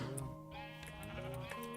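A Minecraft sheep bleats twice in close succession, clear wavering in-game bleats with no voices over them, against a quiet background hum.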